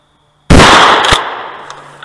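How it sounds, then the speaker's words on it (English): A Remington 870 shotgun fires a single reduced-recoil home defense slug outdoors, a sharp, loud close blast that decays over about a second and a half with faint trailing echo. "we're going to try the reduced recoil Tactical Home Defense slug"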